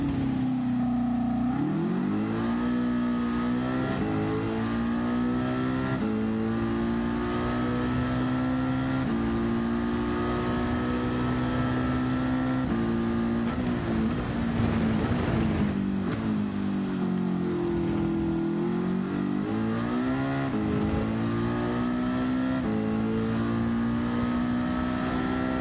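A race car engine in the Gran Turismo video game roars steadily at high revs for the whole stretch, its pitch dipping and climbing through gear changes and corners, loud and continuous with no voices over it.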